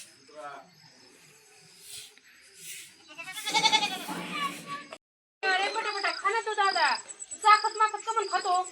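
Goats bleat several times nearby, the loud calls coming in clusters with brief quiet gaps between them.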